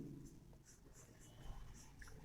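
Chalk or marker writing on a classroom board during a Class 9 science lesson, a quiet series of short scratchy strokes at a steady pace with low room noise underneath.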